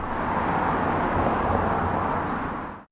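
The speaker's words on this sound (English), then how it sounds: "It could be one of the cars, it could be multiple cars, it could be all of them." Car traffic makes a loud, steady roar of road noise that holds for a few seconds and then cuts off abruptly.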